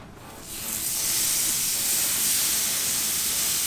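Flank steak searing on a gas grill heated to about 500 degrees gives a steady, loud broadband hiss that swells after a quiet start and holds evenly, with no talking.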